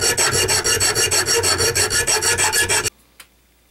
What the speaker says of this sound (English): I got one of these double cut files here, half round.